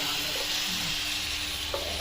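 Chicken frying in mustard oil gives a steady, fairly quiet sizzle across a brief moment, with no speech.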